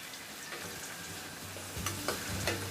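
Onions and whole slit green chillies frying in hot oil for a cauliflower kulambu, a steady close sizzle with a few sharp spoon clinks and stirring scrapes toward the end, no voices.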